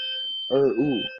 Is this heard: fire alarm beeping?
yes